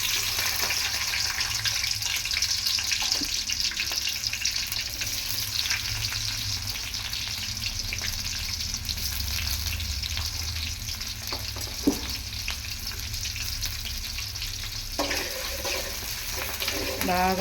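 Onions for fish curry sizzling steadily in hot oil in a pan, a loud, continuous frying hiss with occasional stirring scrapes and clinks, no talking.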